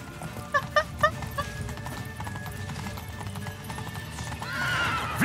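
Horse in The Witcher 3 video game: a few sharp clip-clop hoof hits and a whinny early on, then steady galloping hooves under ambient game sound, rising toward the end.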